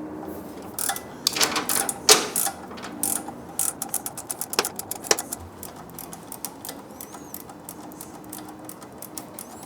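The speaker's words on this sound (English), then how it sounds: "So 10mm really helps if you have a flex head ratcheting wrench" Flex-head ratcheting wrench clicking in quick close bursts on an exhaust header bolt of a 2024 Triumph motorcycle, with short pauses between runs and no talk.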